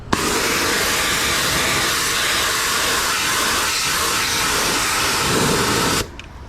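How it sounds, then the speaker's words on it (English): A power washer blasts steady, loud spray against the aluminum of a truck during a wash, a continuous broadband hiss that runs unbroken for about six seconds before cutting off abruptly. "That's when you got to really get in there and power wash it off"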